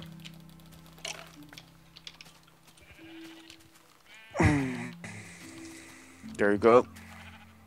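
Sheep bleating in the Minecraft video game on a farm, two or three loud bleats in bursts between keyboard clicks, with someone speaking briefly in the background.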